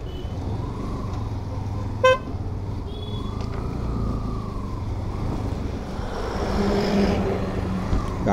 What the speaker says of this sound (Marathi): गाड्या बघू शकता, गाड्या कसल्या आपल्या सुसाट येतात ना इकडून.